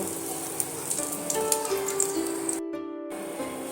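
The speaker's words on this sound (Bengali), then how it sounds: "একই সেম পদ্ধতিতে বাকি যে ডিমটা আছে সেটাও আমি ভেজে নেব" Eggs frying in a pan for a Bengali egg curry, giving a steady soft crackling sizzle throughout, with a brief hiss near the end as more egg is added.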